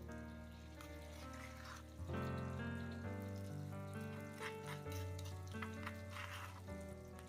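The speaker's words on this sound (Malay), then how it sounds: "Umi bilas je mangkuk lesung tu dengan sedikit air" A little water is poured from a mortar bowl into a pan where pounded spices are frying in oil, giving trickling water over steady sizzling and frying.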